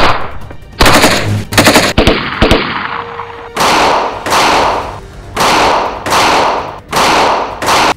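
Heavy gunfire in a shootout between Sindh Rangers and terrorists, loud automatic bursts and single shots repeating in a rough rhythm, harsh and close with echoing tails between volleys.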